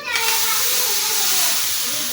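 Tempering spices sizzle in hot oil for kadhi, with a loud steady hiss and bubbling up close after an initial burst, and faint voices in the background.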